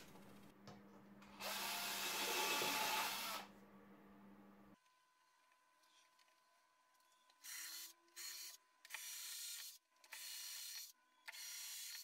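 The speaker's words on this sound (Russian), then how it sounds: "Вставляем динамик и прикручиваем его на саморезы." Self-tapping screws are driven to fix a subwoofer speaker into its enclosure, with a loud whirring burst early on, then a string of short, close power-driver runs with brief pauses between them.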